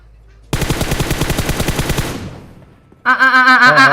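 Automatic gunfire in PUBG Mobile: a loud, rapid burst of evenly spaced shots lasting about a second and a half that tails off, then another dense burst of firing starts right after, close and with no talking.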